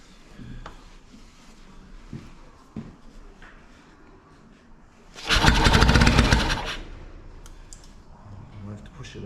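A small engine with the choke out cranks and briefly catches in one loud burst of about a second and a half before dying, with scattered clicks and people talking around it.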